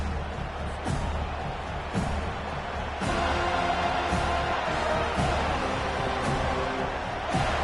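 Steady crowd roar fills a football stadium during a Seminoles game as fans try to disrupt the opposing offense, swelling louder partway through with occasional sharp cheers and thuds.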